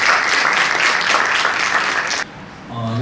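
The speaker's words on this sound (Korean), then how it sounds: "큰 박수로 모시겠습니다." An audience at a research ethics lecture during a Korean safety culture academic conference breaks into loud, dense applause to welcome the speaker, sustained for about two seconds before cutting off sharply into a brief quiet tone.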